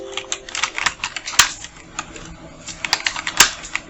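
Close, uneven keystrokes on a computer keyboard are typed in short bursts, with a few sharper clacks standing out, while political graphic text is entered.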